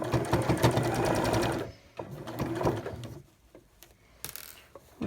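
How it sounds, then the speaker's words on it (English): A sewing machine stitches fabric for a pleated face mask, running in a fast continuous whir, pausing, running again briefly, then stopping with a few small clicks and handling noises, close and alone. "I'm going to stitch down, like I said, downwards this way, not going the other way."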